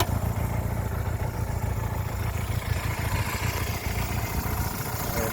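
A 1975 Honda CB200T motorcycle idles close by, a steady low engine burble with light mechanical clatter running unbroken and fairly loud throughout, with no talking.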